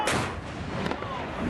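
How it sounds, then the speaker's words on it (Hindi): Heavy gunfire rumbles during fighting in Panjshir, a dense, continuous roar of distant shots and booming reports with a sharper crack near the middle, loud and unbroken throughout. "पंजशीर में फायरिंग किस तरह अपने चरम पर है, दोनों ओर से फायरिंग हो रही है"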